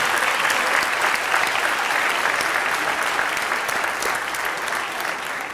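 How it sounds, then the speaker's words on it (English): A large arena crowd at a boxing event for a WBC heavyweight title bout applauds in a dense, steady wash of clapping that holds throughout. "Let's give him a round of applause."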